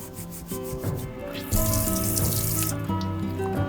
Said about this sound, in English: Simple green. Trusty scuff pad.